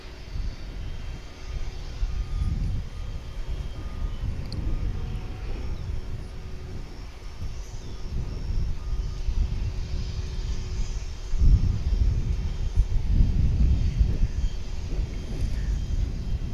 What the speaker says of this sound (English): 787-9. And that particular aircraft is 4 years old.